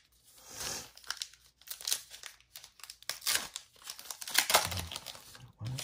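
A foil wrapper on a Mosaic Euro 2020 soccer trading card pack is crinkled and torn open up close, with bursts of sharp crackling and ripping that come in uneven spurts and quiet gaps between them.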